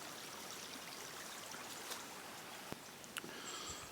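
Water rushes steadily through a venturi aerator pipe, a constant close hiss of flowing, bubbling water with a few brief clicks near the end and no voices.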